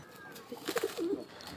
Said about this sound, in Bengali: এই যে কবুতরটা, ওর সাথেই জোড়া দেবো।